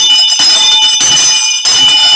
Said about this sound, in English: the bell is tolled for you